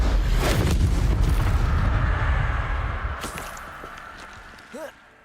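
A fiery Confringo spell explosion in Hogwarts Legacy, a loud deep boom that rolls out and slowly fades over several seconds, followed by a small late pop.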